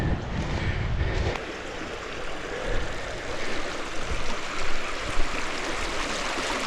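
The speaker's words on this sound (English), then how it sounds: "I gotta cross this creek," A creek runs steadily nearby in Alabama turkey-hunting woods, a continuous broadband rush of flowing water that holds at an even loudness throughout, with a brief low rumble at the start and no talking.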